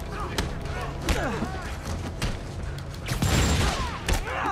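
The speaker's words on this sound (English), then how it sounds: "Oh, I dodged that rocket barely." Rocket explosions in a Spider-Man video game: several heavy booms and thuds scattered among whooshes and game sounds, with a louder cluster near the end, mixed with in-game voices.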